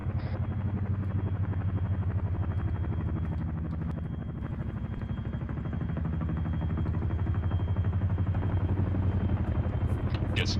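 A Chinook helicopter in the ArmA 3 video game, a loud continuous rotor thump and engine drone close by, steady for the whole stretch, with faint radio voices underneath.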